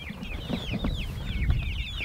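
Several chickens in a movable coop cluck and chirp continuously close by, a busy chattering flock with light background rustle.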